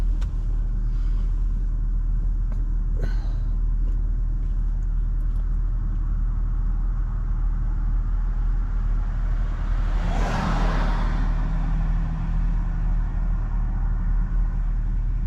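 Outdoors on a quiet back road, a car speeding past swells into a brief, loud whoosh midway through, then fades, against a low steady rumble of background noise.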